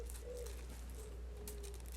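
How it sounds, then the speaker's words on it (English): Birds calling and cooing, pigeon or dove-like, in the quiet outdoors of a caravan campsite on a farm, with a few faint repeated calls over a low steady rumble of background hum. "Birds are singing."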